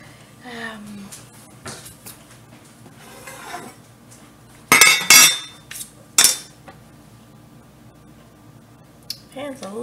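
Knife cutting through shortbread cookies in a warm baking pan, heard as a few loud scraping and clinking strokes against the metal in the middle of the clip, with quieter handling noises and faint talk around them.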